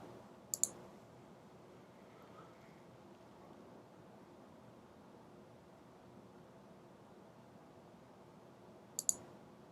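Two crisp double mouse clicks on a Mac, one just after the start and one near the end, sound close against an otherwise quiet, faintly hissing room.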